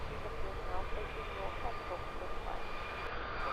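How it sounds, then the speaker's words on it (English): An EasyJet Airbus A320-200 airliner at Luton Airport gives off a steady, loud engine roar that holds constant throughout, with a voice faintly beneath it. "So Eurovision EasyJet off to Palermo. This is an A320-200."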